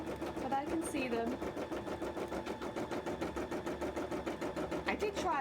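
An embroidery machine stitches a run of embroidery on a cosplay piece with a steady, fast rhythmic pulse, moderately close, while a voice talks over it.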